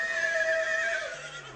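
A yearling filly neighs at a horse auction, a loud, sustained whinny with a steady pitch lasting over a second before trailing off, heard close and clear with no talk over it.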